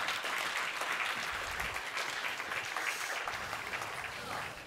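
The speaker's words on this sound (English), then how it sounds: "Give them another round of applause" Audience at a Sunday Assembly gathering in Los Angeles clapping steadily, a sustained round of applause from a room full of people that holds at an even level throughout.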